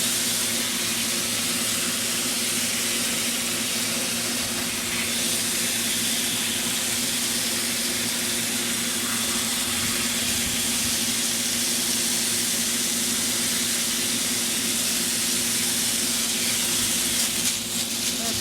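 Water spraying steadily onto a potted poinsettia bonsai to loosen it from its pot, a continuous close hiss with a faint hum beneath and no talking.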